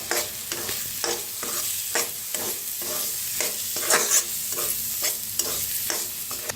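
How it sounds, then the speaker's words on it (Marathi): A spoon stirs spice masala mix in a frying pan, scraping in a regular rhythm of about two strokes per second over a soft, continuous sizzle, close and clear with no talking. "आता मसाला सगळा मिक्स करून घेऊया।"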